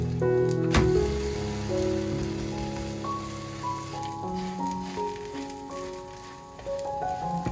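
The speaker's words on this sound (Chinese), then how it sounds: "下面開火，全程用中小火慢慢煎。" A glutinous rice flour cake pan-fries over medium-low heat, giving a soft, steady sizzle and patter beneath gentle background music, with no talking.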